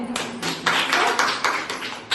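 Group of people in a stress-management training session clapping loudly together, a rapid run of about eight sharp, fairly even claps lasting around two seconds.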